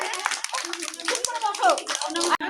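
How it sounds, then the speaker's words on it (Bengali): Children clap their hands in a classroom, a short scattered burst of claps mixed with children's voices and talk, fairly close. "হাততালি দাও।"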